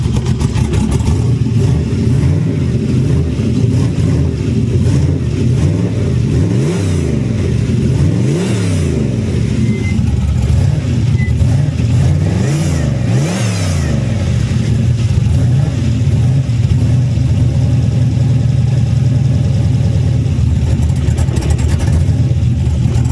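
A cold engine swapped into a 1999–2004 Ford Mustang runs at a rough, uneven idle, with a low rumble that wavers and surges in repeated swoops, loud and close the whole time.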